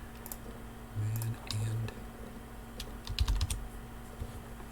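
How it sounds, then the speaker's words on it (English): Soft, quick clicks come from typing on a computer keyboard, with irregular keystrokes and a couple of heavier presses. The typing is faint and close, under a steady low electrical hum. "and I'm just typing"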